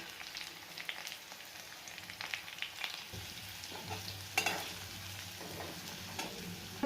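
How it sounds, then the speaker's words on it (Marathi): Crushed homegrown garlic and onions are stirred and sautéed in a hot pan until golden, a steady soft sizzle broken by scraping spoon strokes, close and fairly quiet with no talking. "याचा सोनेरी रंग होईपर्यंत याला परतून घ्यायचे चांगलं व्यवस्थित त्यातच आपल्याला थोडीशी लसूण बारीक कुटून टाकायची"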